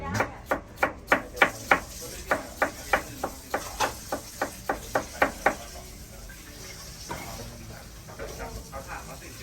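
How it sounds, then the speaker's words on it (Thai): A knife slices ginger on a cutting board in a Thai food kitchen in Germany, a fast, even run of about twenty crisp chops close by, then quieter handling and faint background noise. "หั่นนะหั่นขิง"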